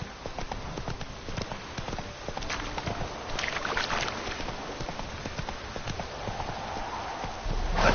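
Horse galloping in the video game The Witcher 3: Wild Hunt, a steady, rapid clip-clop of hooves on hard ground, fairly close and continuous throughout.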